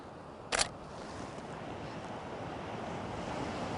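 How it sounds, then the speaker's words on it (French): Sea waves wash steadily at the seaside as a broad, even surf roar with wind, briefly interrupted near the start by the sharp click of a camera shutter. "Je suis à la mer, je fais ma photo"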